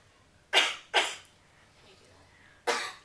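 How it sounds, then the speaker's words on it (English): Two sharp, loud coughs in quick succession, a deliberate double cough to clear the airway, followed after a pause by a third forceful cough in an otherwise quiet room. "in order to have a good, productive cough to clear your airway, you're going to need to cough twice."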